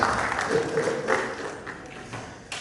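A brief patter of applause, a crowd clapping moderately loud for a couple of seconds before fading.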